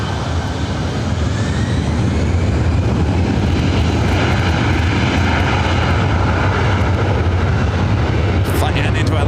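An airliner accelerates down runway 24 right at LAX on its takeoff roll, with loud, continuous engine roar and deep rumble up close throughout.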